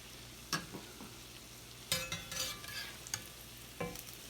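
Fried cornbread made from cornmeal and a little flour, sizzling in a pan under a constant soft hiss, broken by a few sharp scraping stirs and clatters of a utensil.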